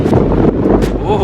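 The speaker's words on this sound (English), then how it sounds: "Oh, it's windy." Strong wind buffeting the microphone while standing on a frozen lake in Banff, a continuous loud roar with gusty surges and no pauses.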